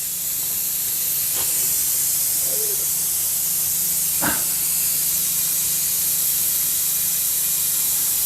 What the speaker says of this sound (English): I'm going to use the oil extracting tool